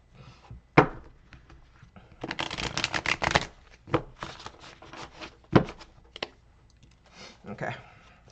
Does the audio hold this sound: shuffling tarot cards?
yes